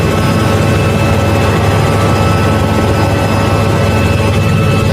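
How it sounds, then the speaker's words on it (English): A helicopter roars loudly overhead with a steady, dense engine and rotor drone that continues unbroken throughout, close and dominant with no voices. "This got to be the slowest helicopter I ever seen in the world"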